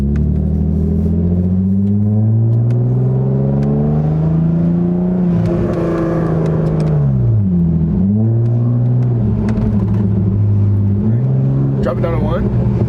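A straight-piped BMW E36 325i inline engine revs loudly and close, rising and falling in pitch with rough rumbling dips between pulls, as people talk over it.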